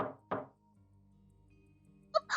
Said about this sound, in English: Then I heard a knock at my door.